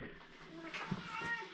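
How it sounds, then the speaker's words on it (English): A house cat gives a faint, short meow indoors, with soft nearby talk and quiet room noise around it. "Oh, that's a kitty."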